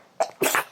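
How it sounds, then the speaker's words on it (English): A person sneezes once, a short inhaled catch followed by a loud, close burst, heard alone with no talking. "I'm going to sneeze now"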